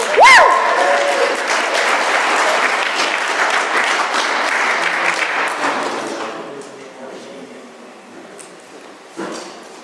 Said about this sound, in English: Let's give Jason a warm welcome